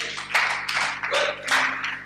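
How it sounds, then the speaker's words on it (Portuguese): A church congregation claps in several bursts of applause that swell and fade over a couple of seconds, moderately loud with a faint hum beneath. "Você pode aplaudir ao Senhor?"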